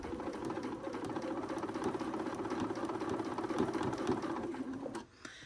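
A home sewing machine runs a steady, continuous stitch along a sleeve seam for about five seconds, close and loud, then stops abruptly.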